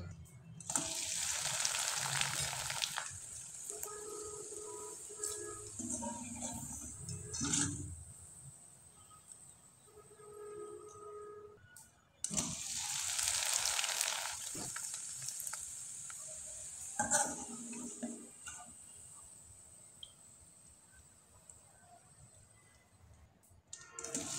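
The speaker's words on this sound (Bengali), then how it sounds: "আমি একইভাবে কয়েকটা পিঠা আপনাদের ভেজে দেখিয়ে দিচ্ছি।" Wheat-flour pitha deep-frying in hot oil, a bright steady sizzle that swells twice as pieces go in, with occasional clinks and stirring, close and loud, no talking.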